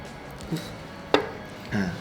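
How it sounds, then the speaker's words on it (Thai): A knife slices through eggs onto a cutting board with a few separate, muted taps, one sharper knock in the middle, against low room hum. "ต่อไปเราจะมาหั่นไข่นะครับ"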